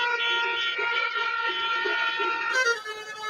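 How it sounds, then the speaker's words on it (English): Car horns honk in a long sustained blare at a street protest with Catalonia flags, several tones layered together and holding steady before shifting near the end. "Honk, honk, honk, honk,"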